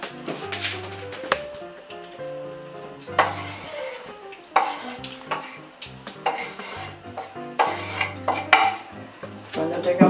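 Ingredients for rice with salt cod go into a frying pan, with a run of metal utensil clatter, scraping and stirring against the pan, with sporadic sharper knocks, over a steady tonal musical background.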